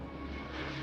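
A spotter plane from the World of Warships naval battle game drones with a steady, continuous propeller-engine hum that fills the short moment without a break.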